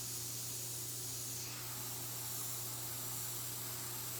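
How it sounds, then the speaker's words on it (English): An airbrush sprays in a steady, continuous hiss that holds even and fairly loud from start to finish, with a low hum running underneath. "I'm airbrushing"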